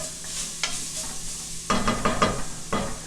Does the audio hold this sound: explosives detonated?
no